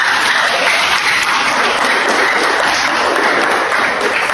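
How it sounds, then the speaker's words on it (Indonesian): A class or lecture audience bursts into sustained applause, a thick, even wash of many hands clapping close and loud for the whole stretch, no talking on top. "Beri tepuk tangan."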